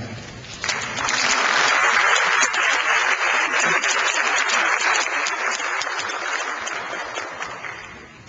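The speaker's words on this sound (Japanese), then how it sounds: "拍手を持ってお迎えください。" Audience applause at a public manifesto debate for the 2012 Okayama prefectural governor election, welcoming the debate coordinator onto the stage; dense, sustained clapping from a hall crowd that swells quickly and holds steady before easing slightly.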